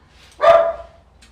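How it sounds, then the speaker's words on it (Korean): A single dog bark rings out once at moderate distance, loud and sharp, in a home during balcony storage organizing, with no talking over it. "우리 강아지가 엄청 짖고 있습니다."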